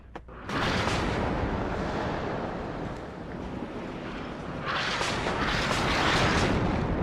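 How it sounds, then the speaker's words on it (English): Artillery fire in the WARNO strategy game: a heavy, continuous rumbling barrage that starts abruptly, rolls on loudly with deep booms blending together, and swells again near the end. "And there goes the artillery."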